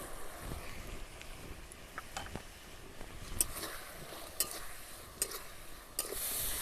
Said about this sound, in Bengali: এবার আমি এর মধ্যে কেটে ধুয়ে রাখা আমগুলো দিয়ে দেব।